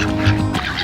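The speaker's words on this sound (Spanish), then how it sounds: "Estos son ocas, ¿no?" A goose honks once, close and loud, in a city park, with other fowl nearby.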